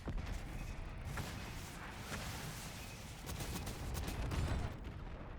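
Hellstorm missile strikes in Call of Duty, a loud continuous barrage of explosions and rumbling impacts with sharp cracks layered through the blast noise, no voices over it.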